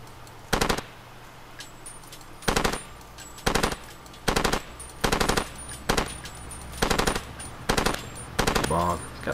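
Automatic gunfire in the video game Far Cry 2 comes in repeated short, loud bursts of rapid shots separated by brief pauses, with a faint voice in the background.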